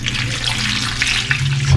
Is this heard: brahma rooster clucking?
no